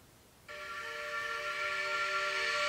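Steam locomotive Erie 2396 sounds its chime whistle, a sustained multi-tone blast that starts abruptly and holds steady and loud to the end, with no voices.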